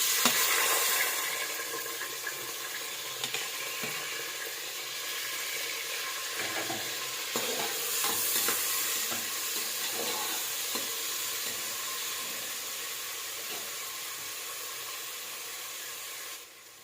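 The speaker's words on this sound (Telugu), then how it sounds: "ఇప్పుడు ఆనియన్ అయితే ఫ్రై అయిపోయిందండి" Onions fry with cardamom and bay leaves in a pan for egg biryani, a continuous bright hiss and sizzle with occasional soft stirring scrapes, close and steady throughout.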